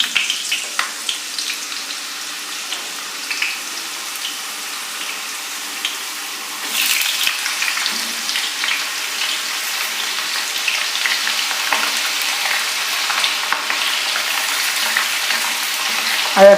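Potato slices dropped into hot oil for instant chips give a steady hissing, bubbling fry with a few small crackles, close and moderately loud and growing a little fuller partway through, with no talking.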